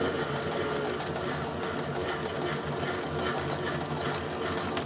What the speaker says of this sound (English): It's quite unbalanced, it's shaking the entire spin dryer.